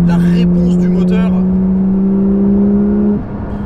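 A Porsche 992 GT3 engine holds a loud, steady high-revving drone for about three seconds before dropping off abruptly, with a brief burst of speech near the start.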